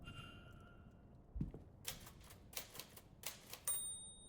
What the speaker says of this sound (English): What was that? The typewriter.